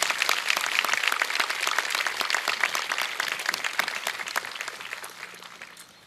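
An audience gives a warm round of clapping at a ribbon-cutting ceremony and open house for a campus hall, dense and steady, then tapering off toward the end.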